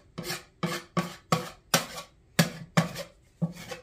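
A venetian plaster tool is scraped clean in nine short, evenly spaced rasping strokes, each a crisp scrape followed by a brief pause, close and moderately loud.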